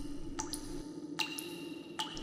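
Water drips in three sharp, separate plops spaced about a second apart, close and clear over a quiet low hum, used as a sound effect in a horror story.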